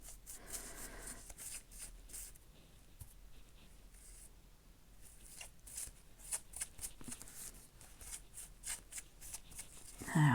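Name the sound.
burnishing double-sided tape on an embossed card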